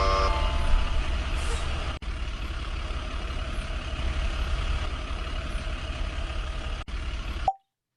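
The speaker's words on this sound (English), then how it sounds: "Drive the truck around." A game truck in the Quiver app drives around, giving a steady low engine rumble that holds for several seconds, broken by two brief cuts, before stopping abruptly.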